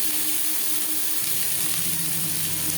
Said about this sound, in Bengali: 10-15 সেকেন্ড কাঁচা লঙ্কা ভেজে নেওয়ার পর দিয়ে দেবো কাঁকরোল।